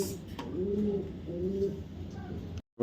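A Green Neck Hungarian Budapest pigeon coos up close, giving two or three rolling, throaty phrases that end abruptly.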